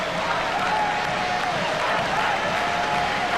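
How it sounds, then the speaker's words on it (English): Stadium crowd cheering and applauding a Sri Lankan cricket victory, a dense steady roar of clapping and voices, loud and continuous throughout with a faint tonal horn or band line beneath. "The crowd to a man are cheering these Sri Lankans."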